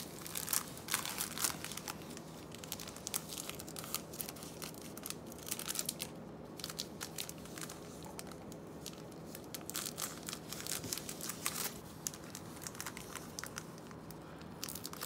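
A 1988 Topps baseball card rack pack wrapper is cut and torn open with scissors, giving a long run of faint, close crinkling, rustling and snipping sounds.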